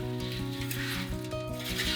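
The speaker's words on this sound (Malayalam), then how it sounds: "നെയ്യും സേമിയയും നന്നായി ഇളക്കി യോജിപ്പിക്കണം" Vermicelli being stirred in ghee in a bronze pot, a steady close sizzle with scraping stir strokes throughout, no talk.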